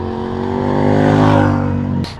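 A BMW K100RS motorcycle's flat-four engine revs steadily and loudly with a deep, smooth drone, the pitch swelling upward and holding before cutting off abruptly near the end under a brief rush of wind.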